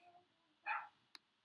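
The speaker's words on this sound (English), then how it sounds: "I'm sorry about that barking." A single short dog bark, fairly faint and a little distant, rises briefly out of a quiet background on a property where horses are kept, followed by a tiny click.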